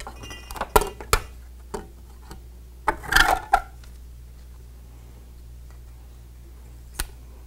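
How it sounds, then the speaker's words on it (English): Small metal and plastic parts of a TAL 3100R label applicator, a collar, spring and plastic washer, are taken off, giving a scatter of close light clicks and clinks with a brief rattling cluster midway. "We're going to remove this collar, spring, and plastic washer and side guide."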